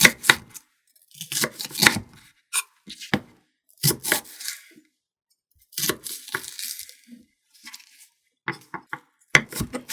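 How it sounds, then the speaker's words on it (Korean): Knife finely chopping the white part of Korean green onion on a cutting board, a run of crisp close taps in uneven bursts with short pauses between them. "잘게 썰어줄게요."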